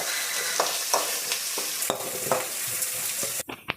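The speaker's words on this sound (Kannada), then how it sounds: "ಈಗ ಈರುಳ್ಳಿ ಫ್ರೈ ಆಗ್ತಿದೆ." Finely sliced onions with curry leaves fry in a pan, a continuous close sizzle broken by repeated light scrapes and clinks of stirring.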